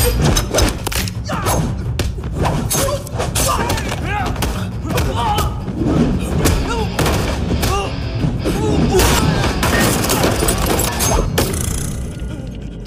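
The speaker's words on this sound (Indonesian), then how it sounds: "penjaga toko itu menyambutnya dengan pistol hingga terjadilah pertarungan" Rapid bursts of pistol gunfire and sharp impacts crackle through a dense, busy shop gunfight scene in an Indian film, with loud shots repeating over a continuous rumble of background noise.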